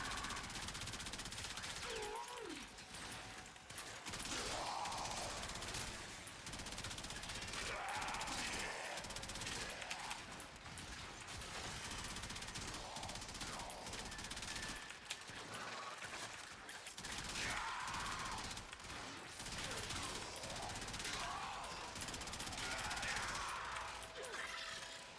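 Kuva Karak assault rifle from the Warframe video game fires in dense, sustained automatic bursts, loud and continuous across the whole stretch with mechanical clatter and a voice talking over it.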